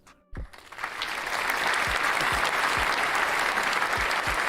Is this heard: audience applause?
yes